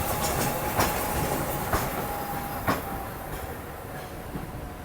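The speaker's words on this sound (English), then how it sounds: "Oh, here comes the tram." A Hong Kong tram rolling past on a rainy street during a tropical storm, a steady rumbling wash with rhythmic clicks from the wheels over rail joints, fairly close and fading slightly toward the end.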